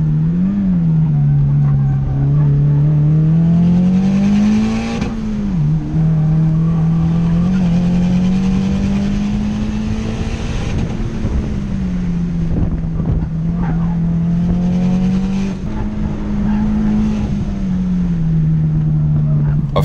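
Turbocharged 2015 Subaru WRX lapping a time attack track at speed, its loud engine droning steadily with pitch rising and falling through gear changes and corners, close and continuous.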